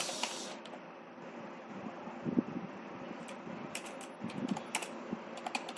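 Computer keyboard typing C program code, a quiet, irregular patter of keystrokes over a steady fan-like hum, with no speech.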